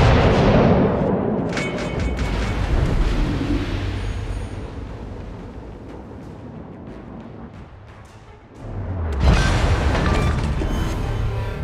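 Heavy battleship guns fire in a World of Warships naval battle aboard the German battleship Prinz Rupprecht, deep booming blasts rolling continuously with a loud fresh salvo near the end, no talking.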